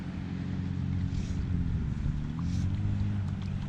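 Wind blowing across a pond during a fly fishing trip for bluegills, a steady low rumbling buffet of gusts against the microphone. It is continuous and fairly loud, with no talking.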